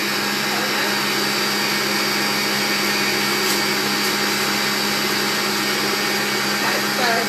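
A handheld electric mixer whirs steadily through chocolate cupcake batter in a home kitchen, a constant loud motor drone holding unchanged throughout with no pauses.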